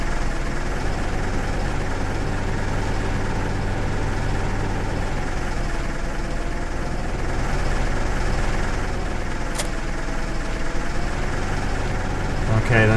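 Continuous low rumble of an idling tractor engine in Farming Simulator 2015, steady and close, with a voice talking over it.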